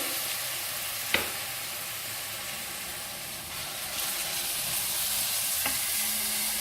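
Chopped tomatoes and two large-cut green chillies fry in a pan for baingan bharta, giving a steady, even sizzle with a couple of short clinks of a utensil.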